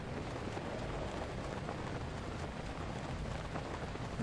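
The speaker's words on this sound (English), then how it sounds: "hanging out waiting for the rain to go by" Steady rainfall in the video game The Legend of Zelda: Breath of the Wild on Master Mode, a faint, even hiss of falling rain that holds unchanged throughout with no speech.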